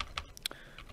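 Keys clack on a computer keyboard in a quick, uneven burst of taps, close and fairly quiet, with no voices.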